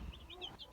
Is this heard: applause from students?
no